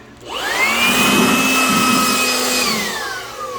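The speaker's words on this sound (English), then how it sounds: "I got this little Chemical Guys blower I've had for quite a few years, so let's get it dried off" A Chemical Guys blower drying a car wheel whines up quickly to a loud, steady high-pitched roar, holds for about two seconds, then winds down at the end, with no voices.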